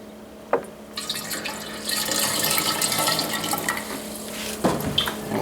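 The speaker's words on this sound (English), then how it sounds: "We'll put a bit more water in." Water pours and splashes into a tractor fuel tank being cleaned, a rushing gurgling stream that swells after a brief drip and clunk, then tapers with a few splashes near the end.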